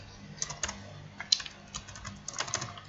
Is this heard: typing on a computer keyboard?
yes